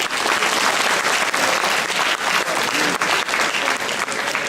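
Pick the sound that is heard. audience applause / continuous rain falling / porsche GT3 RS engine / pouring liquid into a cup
audience applause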